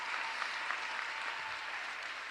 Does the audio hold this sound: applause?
yes